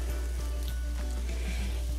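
Seasoning with onion and tomato frying in a pan for meatball pasta, a steady close crackling sizzle with scattered pops over a constant low hum.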